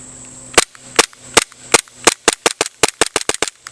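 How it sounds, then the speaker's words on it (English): An EMG SAI BLU airsoft training pistol is dry fired, a string of about fifteen sharp plastic clicks close up, starting spaced out and then speeding into a rapid run of snaps with no talk. "it's probably not good to dry fire an airsoft gun like that"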